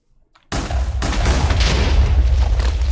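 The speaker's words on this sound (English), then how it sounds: "that was a larger explosion than I thought it was going to be" A chest blows up in a dungeon-building video game: a sudden heavy boom after near-silence, followed by a sustained loud roaring rumble with crackling debris that fills the rest of the moment.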